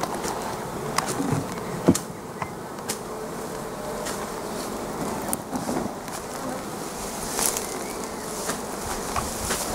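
Honeybee swarm being hived onto a sheet, a steady dense buzzing of many bees close by, with occasional louder individual bees passing near and no talk.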